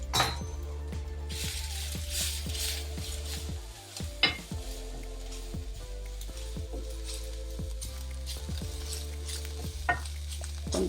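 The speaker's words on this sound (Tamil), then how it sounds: "வெடிச்சது கடுகு நம்ம கீரையை போடுறோம்." Spinach greens go into a pan of popped mustard seeds for arachu vitta keerai sambar, sautéing with a steady close sizzle while a spoon stirs and clinks against the pan again and again throughout.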